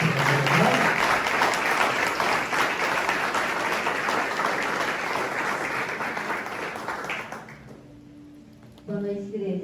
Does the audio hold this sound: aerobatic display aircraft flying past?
no